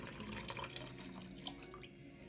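Liquid pours steadily into a mixture of homemade floor polish ingredients, giving a continuous close trickle and splash that runs throughout without talk.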